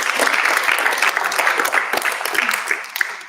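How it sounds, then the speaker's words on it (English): An awards-ceremony audience claps for the nominees, loud and close, with sharp individual claps standing out over the sustained applause. "Giving a massive round of applause for all of our phenomenal nominees."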